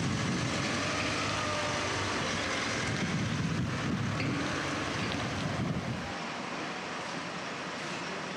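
Water runs and sprays over an old Coca-Cola van being washed down, a steady broadband rush with wind-like noise that drops back sharply near the end, no voices.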